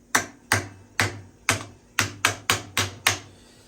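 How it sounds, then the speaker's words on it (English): A small hammer taps on the bolt lug of a Yamaha YXZ 1000 during a transmission install, giving nine sharp metallic knocks at a fairly even rhythm, close and clear. "Get you a small hammer. Go ahead and tap on this lug here,"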